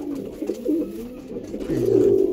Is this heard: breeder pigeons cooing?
yes